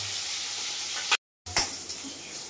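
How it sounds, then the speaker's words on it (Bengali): Tilapia fish pieces frying in oil give a close, steady sizzle, broken by a brief silent gap before the hiss resumes with a sharper burst. "এবারে দিব লেজটা, আরেকটা দিব মাছ, 3 পিস করে ভাজি।"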